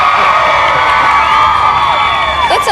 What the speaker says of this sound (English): every time Al Roker's name came up on that screen, this crowd went nuts.